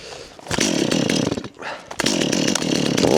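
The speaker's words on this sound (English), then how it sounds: "My chainsaw keeps cutting out on me." Chainsaw cutting firewood at a snowy cabin, its engine loud and close, roaring, briefly dropping out and sputtering, then revving back up and running hard again.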